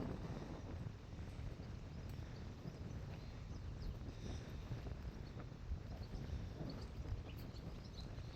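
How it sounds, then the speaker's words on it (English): Wind blows steadily and roughly across the microphone outdoors near a stable of Friesian horses, giving a constant low rumbling buffet for the whole stretch with no clear sounds standing out above it. "The wind is blowing."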